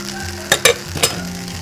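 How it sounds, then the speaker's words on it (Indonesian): Green fried rice (nasi goreng ijo) being stirred in a hot pan, with a steady sizzle broken by a few sharp scraping strokes of the spatula, close and fairly loud. "Kembali kita aduk rata"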